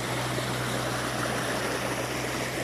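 Bunyip water-powered pump running on a 4-inch supply pipe, a steady close rush of flowing water over a low constant hum, even and unchanging.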